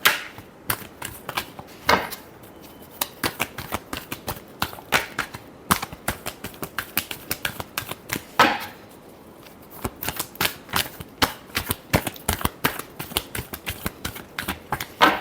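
Tarot cards being shuffled by hand, a rapid run of crisp riffling flicks and soft slaps in close, quiet bursts with brief pauses in between, with no voice over them.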